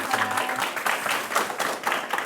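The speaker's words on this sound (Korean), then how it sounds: "다시 한번 우리 교수님께 큰 박수 보내드릴까요?" Applause from an audience at a talk event, a steady wash of many hands clapping at moderate volume, with a few faint voices mixed in.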